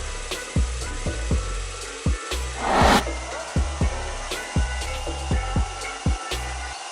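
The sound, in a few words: drilling wood plank with flat wood drill bit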